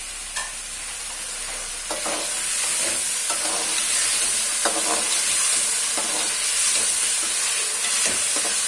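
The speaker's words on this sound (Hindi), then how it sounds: "थोड़ा सा आलू को भून लेंगे।" Potatoes and bell peppers frying in a pan, a loud steady sizzle and hiss with intermittent spatula scrapes and taps, close and continuous, no talking.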